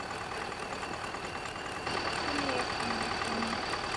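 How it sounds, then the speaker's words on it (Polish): A new John Deere tractor idles with a steady low engine drone, close and continuous, with a slight rise in level partway through. "ale nowy John Deere jest odkupiony"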